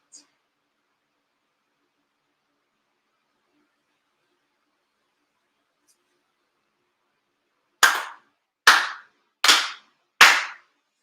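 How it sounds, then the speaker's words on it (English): Four sharp, evenly spaced ceremonial hand claps at an autumn memorial ceremony, ringing out alone after a long silence. "4 sincere claps along with the head officials"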